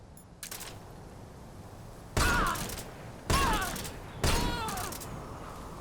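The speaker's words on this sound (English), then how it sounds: "Now you re-equip it and shoot her with it." Gunfire in the Metal Gear Solid Delta video game, with three loud bursts of shots, each followed by a lingering echo, after a faint earlier burst, over a low ambient game background.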